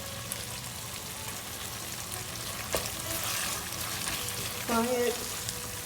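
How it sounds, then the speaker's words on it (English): A tomato rice base is sauteed in a pan with fresh coriander, giving a steady close sizzle with occasional stirring scrapes, while a voice briefly speaks over it. "We are just going to saute it, and I'm going to add coriander, fresh coriander to this."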